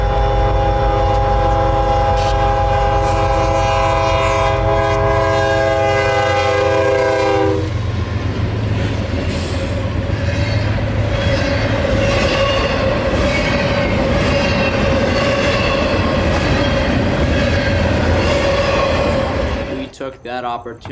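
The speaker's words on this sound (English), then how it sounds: "southbound Tropicana and intermodal train from Jacksonville, Florida to Tampa's Uceda Yard" A CSX Tropicana and intermodal freight train passes close and loud, its multi-tone horn blaring for several seconds before giving way to the heavy rumble, wheel squeal and clatter of passing cars.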